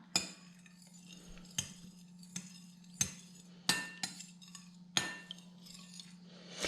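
A spoon clinks against a container holding a milk and vinegar mixture, with about eight sharp, bright taps at uneven intervals over a low steady hum, close and alone without speech.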